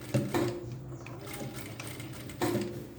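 A sewing machine stitches a denim skirt seam, its steady close motor hum and needle chatter running throughout with brief louder bursts near the start and end, no voices over it.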